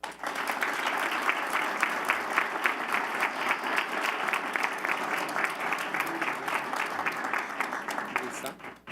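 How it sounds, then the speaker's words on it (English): An audience at a school board meeting claps loudly and steadily for an award recipient, a dense, sustained applause lasting several seconds before tapering off. "please give a big round of applause to our President's Award recipient"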